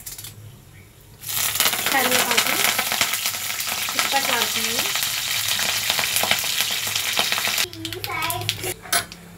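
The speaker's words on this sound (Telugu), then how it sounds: "తాలింపు వేసేస్తున్నాను" Tempering spices hitting hot oil in a pan while cooking spinach and onion curry, an abrupt loud sizzle that bursts in and holds steady, with faint clinks; a voice speaks over it briefly.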